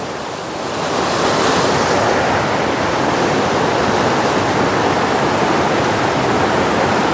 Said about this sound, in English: I'm gonna pour it into the Scuttle here.